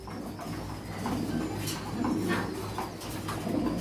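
Pigeons coo steadily at a pigeon farm, several birds overlapping in a low, throaty, rolling murmur that swells in waves close by, with no talking.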